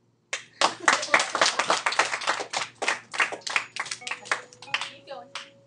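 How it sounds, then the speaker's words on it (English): A classroom full of students clapping their hands in a quick, ragged run of sharp claps lasting several seconds, loud and close, with a voice briefly audible near the end. "Clap."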